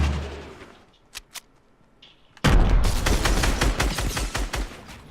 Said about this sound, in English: So I try and force him out by using a grenade launcher.